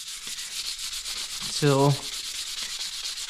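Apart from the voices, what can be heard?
sanding the wood of a Comanche short bow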